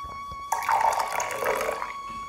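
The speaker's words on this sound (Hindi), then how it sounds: "इतनी ही मात्रा पानी की मैंने डाल ली।" Water poured into a vessel to dilute a cow-urine preparation, a steady pouring stream of under two seconds after a quiet start, close and clear, with no talk.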